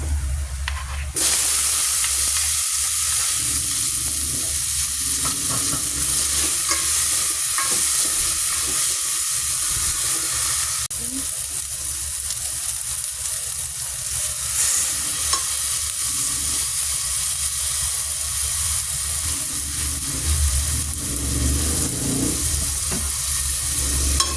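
Tomatoes sizzle and fry in a pan while being stirred for a Filipino sour tamarind chicken dish, with a steady close hiss and occasional scraping stirs throughout, no talking.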